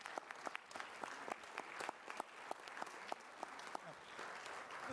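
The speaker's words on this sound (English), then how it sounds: "Can we please have a round of applause?" Audience applause at a city council formal meeting in Richmond, Virginia: steady clapping from a moderate crowd in a hall, individual claps distinct against the group, fairly faint and continuous throughout.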